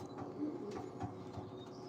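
Pigeons coo softly inside a loft, a faint, low, rolling murmur against quiet background hum.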